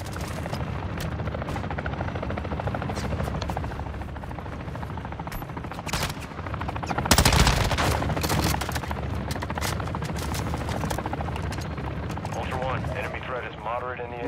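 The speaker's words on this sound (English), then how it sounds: "There's another chopper dropping there." A helicopter drones continuously in a Call of Duty MW2 match while bursts of gunfire and explosions crackle around it, with players talking over the din.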